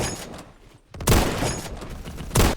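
Sniper rifle gunfire in the video game Phantom Forces, with two loud, sharp shots about a second apart, the second near the end, over a busy background of game noise.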